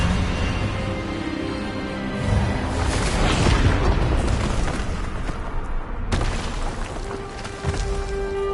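A spell blast cast in Hogwarts Legacy, a loud whooshing burst that swells into a booming impact around three seconds, then a second sharp hit near six seconds over sustained magical rumble.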